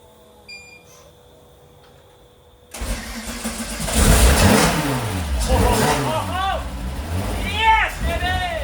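A VW Mk1 fitted with a VR6 engine, revived after two years of neglect, catches after a quiet spell and roars to life. It is loud and close, with rising and falling revs, and a voice is heard over it.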